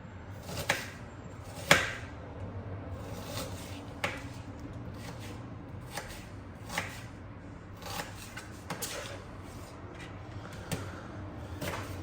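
Knife cutting onion into large chunks for plov, heard as a steady series of faint, dry chops spaced roughly a second apart, close by and with no voices.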